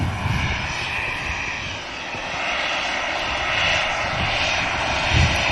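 An easyJet airliner at Manchester Airport gives off a continuous jet engine roar of moderate loudness, with a high whine over a low rumble that swells gently toward the end.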